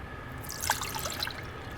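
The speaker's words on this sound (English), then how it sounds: "Pour water in the coffee maker." Water poured from a cup into a Hamilton Beach single-cup coffee maker, a short soft trickle and splash heard close up with no talking.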